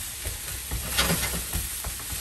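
Mushrooms sizzle softly in a pan while a utensil stirs and scrapes, producing scattered light taps over a continuous frying crackle.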